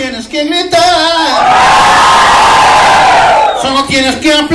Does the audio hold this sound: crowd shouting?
yes